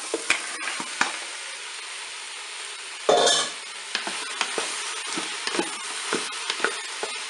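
Leeks and onions sizzle in hot oil inside a Cookeo multicooker pot, a steady close crackle punctuated by sharp scrapes and knocks of stirring, with one louder burst of hissing as more vegetables go in.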